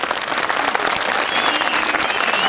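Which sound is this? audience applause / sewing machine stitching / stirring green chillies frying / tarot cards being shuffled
audience applause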